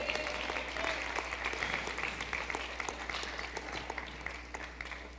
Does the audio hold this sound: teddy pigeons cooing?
no